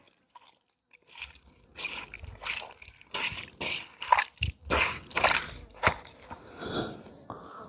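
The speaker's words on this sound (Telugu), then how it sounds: "మనం కోసుకున్న పచ్చిమిర్చి అలాగే ఉల్లిపాయలు అయితే మిక్స్ చేద్దామండి" Chopped green chillies, onions and chicken being mixed by hand for bamboo-cooked poha biryani, giving wet, squelching, sticky bursts in an irregular rhythm, close up, with no talking.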